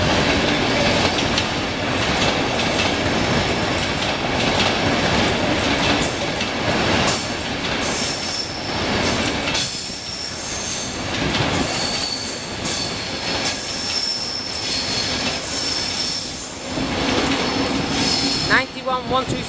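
An HST (High Speed Train) passes through York Station, a loud, sustained roar of rolling stock with wheel squeal and rail clatter lasting throughout, fluctuating as carriages go by.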